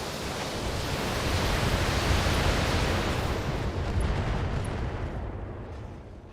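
A mech in a BattleTech-style game fires all weapons in one alpha strike, a dense roaring wall of blasts and rumble that swells loud and holds steady before easing off, with no voices.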